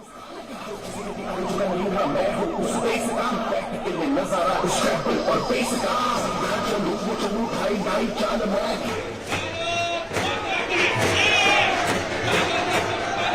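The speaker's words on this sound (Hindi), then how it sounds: "मोदी को देखने के लिए जबरदस्त भीड़ जुटी थी।" Large crowd gathered in Rajkot to see Prime Minister Modi, a dense roar of many voices with cheering and shouting, loud and continuous throughout, swelling with excited cries near the end.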